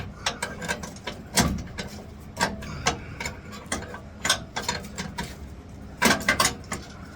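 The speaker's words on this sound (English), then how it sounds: "Guess we'll just be here for 4 days undoing these 6 bolts" A ratchet undoing bumper bolts on a 1966 Ford Fairlane, heard up close as bursts of rapid clicking with short pauses between strokes.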